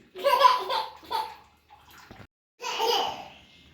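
Bursts of splashing and pouring water as a small child is bathed, short close splashes separated by quiet gaps, with faint child babble mixed in.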